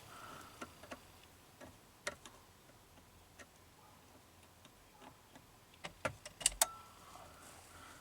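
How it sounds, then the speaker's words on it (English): Sparse, irregular clicks inside a 2006 Ford Freestyle with a no-crank fault, faint and spaced apart, then a quick burst of louder clicks near the end, over a low, quiet hum. "I hear something clicking there."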